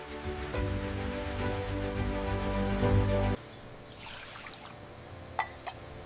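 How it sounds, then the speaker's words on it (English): Filtered water pours in a steady, loud stream at an instant noodle factory, then cuts off abruptly, leaving quieter drips and light clinks against a faint machinery hum. "Water, filtered to precision, waits to join the flour."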